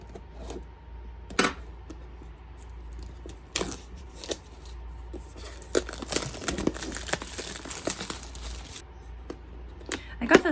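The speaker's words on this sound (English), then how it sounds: "All right, let's get some scissors." Scissors snip and cut through gimbal packaging amid crinkling plastic and cardboard rustling, in scattered close bursts that grow busier toward the middle.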